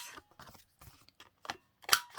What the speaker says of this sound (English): round them with scissors.